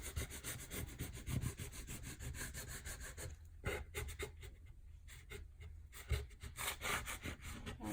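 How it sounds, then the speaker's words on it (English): Transfer letters are scraped onto a board in quiet, repeated rubbing strokes, a dry scratchy texture that comes in short bursts, close and faint. "scrape it on your board. Scrape, scrape."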